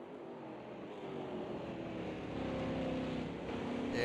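A Chevrolet Chevelle race car engine drones steadily in a racing game at Spa, a moderately loud sustained hum that rises slightly in pitch and intensity toward the end.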